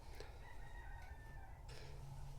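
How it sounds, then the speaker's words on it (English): A backyard rooster crows faintly in the distance, a short two-part call over a low background hum. "The rooster's excited."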